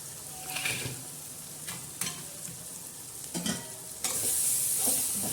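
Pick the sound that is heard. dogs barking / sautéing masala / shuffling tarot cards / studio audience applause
sautéing masala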